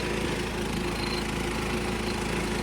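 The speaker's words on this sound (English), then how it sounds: "Take a ride on the good old John Deere 300." A 1976 John Deere 300 riding lawnmower engine runs steadily up close, a loud continuous droning rumble with no pauses.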